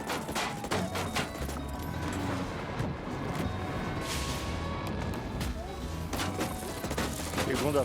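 Rapid machine-gun fire from an attacking drone during the Titan Cerberus Zeta raid on Golem Island in a video game, a dense continuous rattle of shots and impacts mixed with game effects throughout.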